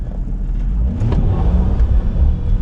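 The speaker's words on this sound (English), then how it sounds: "Oh yeah, slow burnout right there." A Lincoln LS V8 car rumbles loudly and up close during a slow burnout, its deep engine revving unevenly throughout with no voices.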